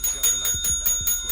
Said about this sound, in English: Hold on, give him a bell.